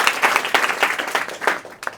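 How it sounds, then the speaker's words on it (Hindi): Students and audience clap for Bihar Board 10th topper Kiran Kumari, a loud, close burst of quick rhythmic hand claps lasting about two seconds. "एक बार किरण कुमारी के लिए जोरदार ताली होना चाहिए"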